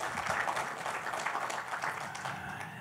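Applause from a church congregation, soft continuous clapping from many hands at a distance, steady and unbroken for a few seconds.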